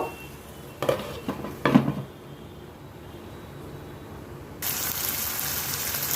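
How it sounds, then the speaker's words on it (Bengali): A ridge gourd curry gets utensil clatters and short pouring bursts in the pan, then a quiet pause before a steady hiss of water in the covered pan takes over at the end. "এবার এর মধ্যে আমি একটু ঘুমি জল দিয়ে দেবো ঢাকা দিয়ে দেব"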